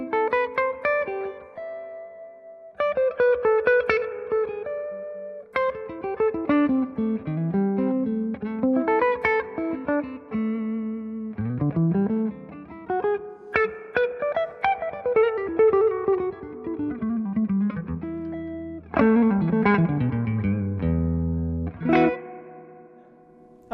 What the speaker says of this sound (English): So this is just a touch of the reverb.